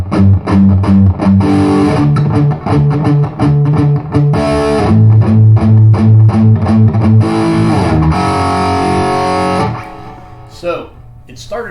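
An electric guitar plays the second verse of a song with a distorted, effects-laden tone. Strummed chords and picked notes run steadily for about ten seconds, then stop, leaving a brief quiet tail.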